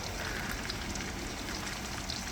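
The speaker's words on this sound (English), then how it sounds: "That's a lot of rain." Heavy rain falls outdoors, a dense, even hiss of drops pattering on surfaces, loud and continuous throughout with no voices.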